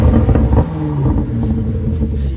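A Range Rover Sport SV L461 fitted with a Quicksilver exhaust, running with the exhaust valve open, gives a loud, close, deep rumbling burble that holds steady throughout.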